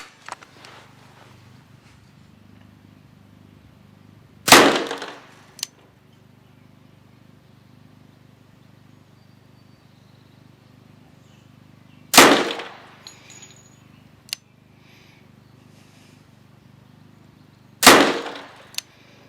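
Three loud, sharp gunshots from a Mech Tech CCU carbine conversion firing 230 grain jacketed hollow point rounds, spaced several seconds apart, each with a short ringing tail and a faint metallic click after it, over quiet background hum.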